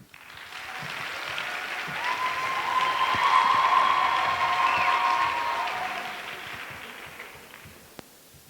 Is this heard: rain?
no